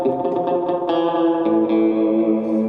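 Strat-style electric guitar through a Line 6 Helix with multi-tap delays, ringing chords and single notes smeared by chorus and echo repeats, loud and close with no speech.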